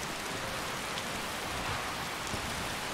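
Steady rain falling in the video game Skyrim, a dense even hiss of drops on surfaces, constant and moderately loud throughout, with no voices.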